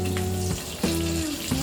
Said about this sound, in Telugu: అదే ప్యాన్లో 2 రెమ్మలు కరివేపాకు వేద్దాం